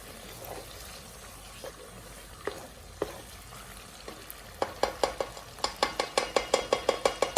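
Egusi stew cooking in a pot, with a low sizzle and bubbling at first, then a run of quick, evenly spaced scraping stirs that grows louder and more rhythmic toward the end.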